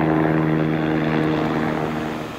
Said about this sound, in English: the folks going by in that helicopter